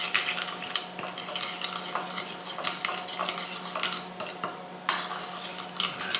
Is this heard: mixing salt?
yes